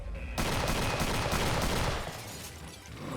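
Burst gunfire from a modded Doom (1993) PC game erupts abruptly as a dense, loud rattle of rapid shots that holds steady for a couple of seconds before tapering off.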